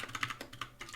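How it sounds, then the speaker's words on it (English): Computer keyboard typing during a low-level programming session: a quick, irregular run of clicky keystrokes, close and fairly quiet, with no talking. "the typing kind of goes, gets in the way here"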